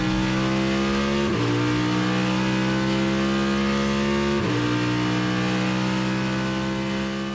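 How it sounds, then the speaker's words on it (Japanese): A NASCAR stock car engine roars steadily at high revs on a test run at Fuji Speedway, with two sharp gear shifts that drop and then climb in pitch, loud and close throughout. "この日ナスカーのテスト走行が行われていました。"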